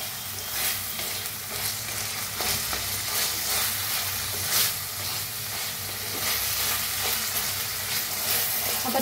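Tomatoes, onions and a little coriander roasting together in a pan for a sprouts recipe, a continuous close sizzle and crackle with occasional stirring, steady and unbroken with no voices.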